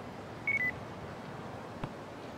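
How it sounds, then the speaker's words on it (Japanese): In the video game Yakuza 5, a phone rings as two short electronic beeps early on, heard over a steady background hiss, followed by a faint click. No one talks. "電話や。"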